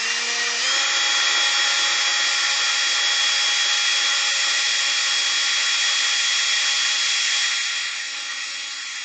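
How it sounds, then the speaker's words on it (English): A power drill whines steadily at high speed for several seconds, loud and close, drilling through a Kawasaki KZ400 motorcycle seat pan, then its pitch drops slightly as it winds down near the end. "now I can go on ahead and drill through the seat pan"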